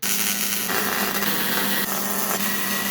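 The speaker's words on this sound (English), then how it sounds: "I'm gonna weld this whole thing in now." Steady, loud welding buzz on a truck bed skin with shaved taillights and a roll pan, stitching the panel in through punched spot-weld holes; a continuous dense crackle runs unbroken for the whole stretch with no talk.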